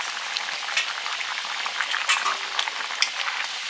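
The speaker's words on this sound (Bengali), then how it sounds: "জল ফুটে গেছে, মাছগুলো দিয়ে দিচ্ছি" Fried fish going into curry that is boiling in a pan, with steady close bubbling and sizzling plus scattered sharp crackles, and no voices.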